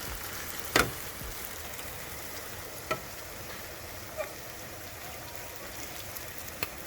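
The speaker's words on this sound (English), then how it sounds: "put the egusi inside the oil, put the seasoning, and fry for a couple of minutes" Egusi with seasoning frying in hot oil, giving a steady soft sizzle throughout with a few brief clicks of stirring, close and fairly quiet, no talk.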